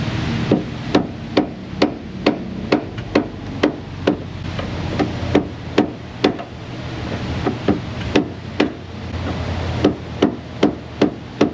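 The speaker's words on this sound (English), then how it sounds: "I might have to get my dead blow. The old sledge is bouncing too much." A sledgehammer strikes a car part in an auto repair shop, landing over and over in a steady rhythm of sharp metallic knocks, each followed by a brief bounce. The blows are loud and close, with no voices.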